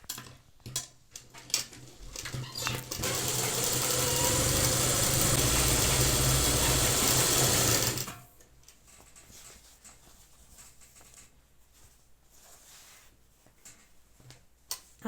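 Sewing machine stitching the curve of a kurta sleeve, one sustained whirring run of about five seconds between quieter ticking and handling sounds.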